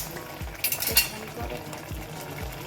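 A mixed paste fries in mustard oil in a pan, with a soft steady sizzle under regular low knocks from stirring, roughly two to three each second.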